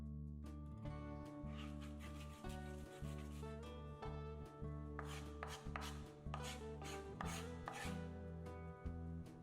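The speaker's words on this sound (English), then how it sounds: "Oh yeah, chop some garlic too, might as well." Rapid, steady knife chops on a cutting board as garlic is minced with salt for hummus, a dense rhythmic run of close, loud strikes with no talking.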